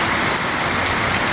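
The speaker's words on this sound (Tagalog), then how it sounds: "Umuulan na." Steady rain falls on a rainy midday in Nepal, a dense, even hiss of drops on surfaces with no breaks, fairly loud and close throughout.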